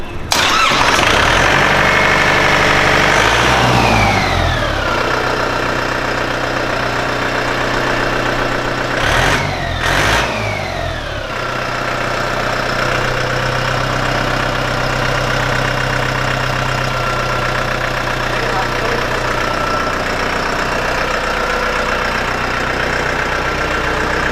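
A tractor engine cranks and fires up with a rough burst, then settles into a loud, steady, chugging idle that continues throughout.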